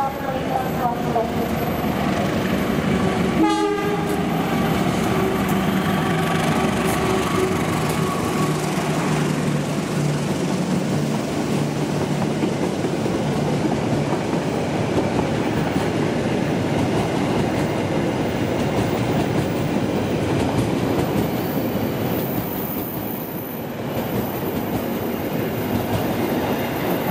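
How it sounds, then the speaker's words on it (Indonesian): A train runs straight through a station platform without stopping, producing a loud continuous rumble and rattle of wagons that dominates throughout, with a brief squeal early on and station announcements in the background. "Hati-hati jalur 2 kereta api melintas langsung."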